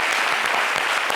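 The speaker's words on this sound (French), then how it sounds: "On peut l'applaudir." A television studio audience claps for a guest in a burst of dense, lively applause, loud and close, with no voices over it.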